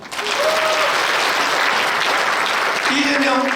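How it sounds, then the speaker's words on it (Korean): A crowd at a political rally claps hard and continuously for a presidential candidate, with brief shouts and voices rising through the steady roar of applause. "박수"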